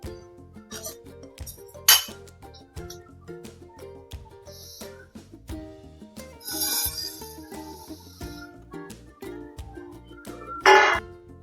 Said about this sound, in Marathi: आता आपण याच्यामध्ये उडदाची डाळ घेऊया भाजायला